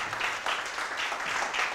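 Audience applause at a talk on UX design, a brief burst of many hands clapping at moderate volume, slightly distant and even in rhythm.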